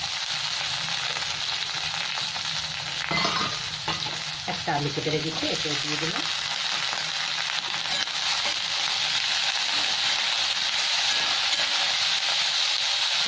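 Chopped onion, carrot and potato frying in a pan for poha, a steady oily sizzle with brief stirring scrapes while someone talks over it early on.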